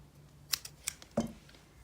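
Scissors cutting beading thread: a few quick, quiet snips close by, ending in one slightly firmer cut, with no talk.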